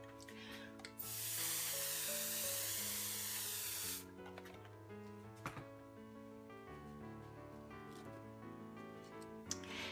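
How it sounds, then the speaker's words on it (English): A loud continuous hiss of an atomizer spraying paint for about three seconds, with soft background music playing throughout. "I'm going to take this circle one and spray again"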